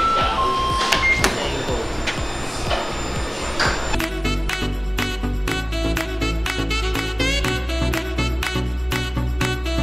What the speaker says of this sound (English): so now we'll be printing the CMYK first